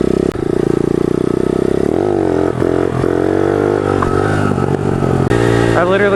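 A Kawasaki ZX pit bike engine droning loud and close while riding through streets, holding a steady tone with shifts in revs and some clatter.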